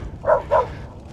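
Dogs bark aboard a sailboat on open water. Two short, fairly faint barks come in quick succession, with soft background noise around them.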